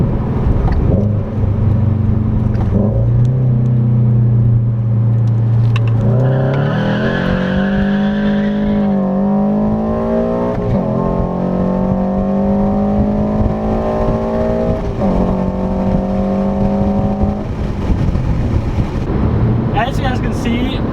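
Car drifting with stock steering angle, its engine loud and close, droning low and then revving higher in long sweeps while tires squeal through the slides, with a voice talking over part of it.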